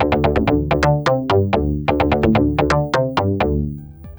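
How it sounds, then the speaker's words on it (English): A Korg Volca FM synth plays the Chevy Bass preset as a Detroit techno pattern: a loud, bright run of rapid plucked FM notes in a steady, bouncy rhythm with sustained low bass, heard on its own without speech. "I've used this preset patch, Chevy Bass, that I just adjusted the velocity slightly and I created a pattern that sounds like this."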